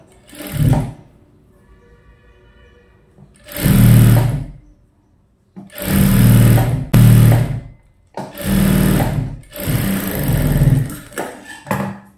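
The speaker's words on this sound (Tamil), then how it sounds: "அந்த தையல் மேலேயே ஒரு தையல் போட்டுக்கலாம்" Sewing machine stitching a seam on a blouse sleeve in loud bursts of rapid mechanical whirring, several runs of a second or two each separated by short pauses, close and alone.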